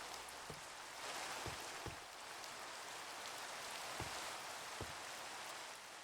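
Rain falls in the Minecraft video game, a continuous even hiss of downpour with a few soft drop taps scattered through it, and no voices.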